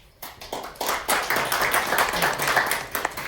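A brief scatter of clapping from a small group, a few seconds of uneven hand claps with no one speaking.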